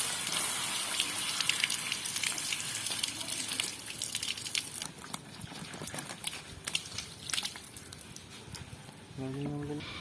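Water from a hose pipe running over a hot Bajaj Chetak scooter silencer during cleaning, heard as a continuous hissing gush and patter that fills the clip, with some faint background noise.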